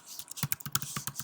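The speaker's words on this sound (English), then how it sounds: "The typing you hear is me in the back end logging in" Fingers type on a computer keyboard nearby, a quick irregular run of crisp key clicks with short gaps between bursts and no voices.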